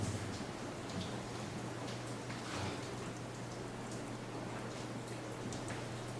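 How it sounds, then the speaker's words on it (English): Steady rain pours down on a large historic ship with a constant hiss, drops spattering on surfaces, over a low continuous hum. "You can hear the rain coming down pretty good."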